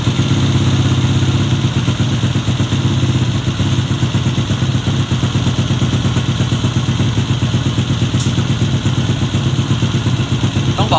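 A tuned Honda ADV150 scooter with a 66 mm bore and 2.5 stroke runs steadily at close range, a loud, continuous engine drone with a fine rattling clatter throughout.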